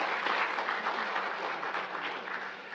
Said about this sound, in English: If we can give another round of applause.